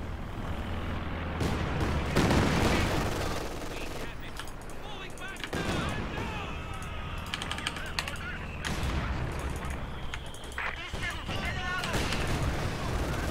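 Bursts of machine gun fire in the real-time strategy game Company of Heroes 2, crackling in rapid clusters amid explosions and battle noise, with someone talking over much of the action.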